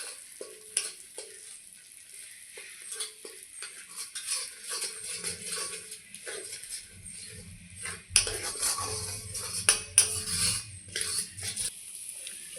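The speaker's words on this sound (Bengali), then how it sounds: "সবগুলো ভালোভাবে আবারও কষিয়ে নেব।" Spices including chilli powder and Kashmiri red chilli powder fry in a pan for pointed gourd with almond paste, heard as a quiet low sizzle broken by intermittent clinks and scrapes of a spoon stirring against metal.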